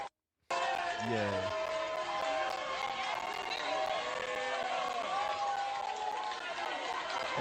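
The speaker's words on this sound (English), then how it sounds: "Everybody clapping." A crowd claps and cheers at a drumline event, a dense steady wash of applause and chatter heard as playback of a video after a short silent gap.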